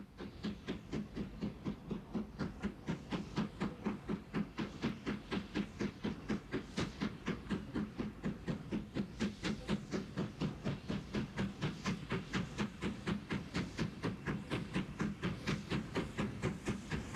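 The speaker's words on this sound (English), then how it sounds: "the B12 approaches Weybourne with a train for Holt." B12 steam locomotive hauling a passenger train toward Holt near Weybourne, a steady rhythmic chuffing and clatter beating in even repeated pulses, moderately distant and alone without voices.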